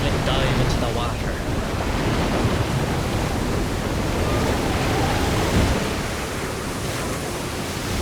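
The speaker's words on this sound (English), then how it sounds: "Backflip dive into the water." Water splashes and surf-like rushing as Snake backflips and dives into the sea in Metal Gear Solid 2, a steady broadband wash of water and wind filling the whole stretch at moderate loudness.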